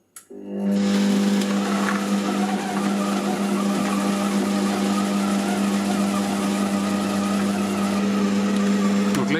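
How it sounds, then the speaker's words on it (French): Digicook Connect food processor on speed 4 kneading brioche dough, its motor starting abruptly then droning loud and steady with a strong hum and rattling whir. "Le Connect, je vais mettre 2 minutes, vitesse 4, malaxé."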